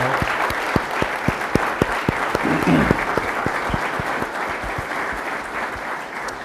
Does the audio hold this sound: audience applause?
yes